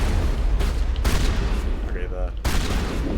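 Shotgun fire in the video game Mass Effect booms in several heavy blasts mixed with other game sounds and someone talking over them.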